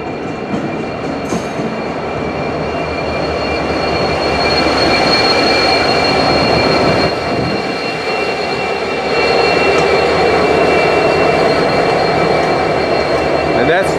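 A Norfolk Southern freight train rumbles past close by with a continuous heavy roar of rolling cars, steady rattling and faint high wheel squeal throughout.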